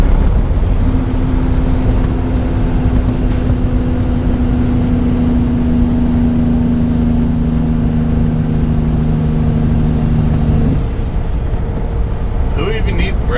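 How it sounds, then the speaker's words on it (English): Jake engine brake on a 2021 Kenworth W900 truck's Cummins X15 engine, a steady loud low droning rumble with a sustained tone that cuts off near the end, heard from inside the cab. "Gotta love these X15 Jakes,"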